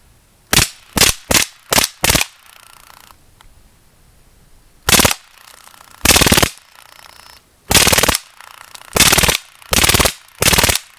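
A modified Drozd Blackbird air pistol running on HPA fires in full auto: five quick, sharp bursts close together, a pause, then six longer, loud rattling bursts spaced about a second apart, with no talking.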